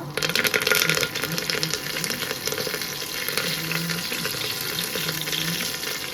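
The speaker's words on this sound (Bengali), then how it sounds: "সর্ষের তেল গরম হয়ে গেছে ভালো এর মধ্যে আমি একটু জিরে ফোড়ন দেব" Cumin seeds and curry leaves hitting hot mustard oil, a loud hissing sizzle that bursts at the start and then settles into a steady crackle.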